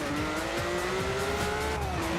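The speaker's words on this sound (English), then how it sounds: "let's see how this car drives, because it has a twin turbo, so it should launch" Ferrari Testarossa twin turbo launching hard in Forza Horizon 4, a loud continuous engine roar with rising revs and tire squeal, heard close and alone.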